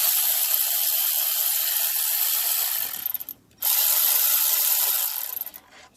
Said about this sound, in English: That looks like it's going to be a 10 millimeter. Go ahead and break that loose.